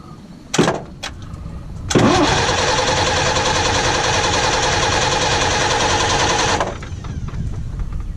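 An old Ashok Leyland vintage truck with a 401 engine is cold-started: a couple of sharp clanks, then the starter cranks and the diesel catches into a loud, rough, steady idle for several seconds before settling lower.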